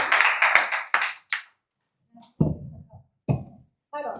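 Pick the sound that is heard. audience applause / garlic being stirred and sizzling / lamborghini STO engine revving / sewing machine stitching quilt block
audience applause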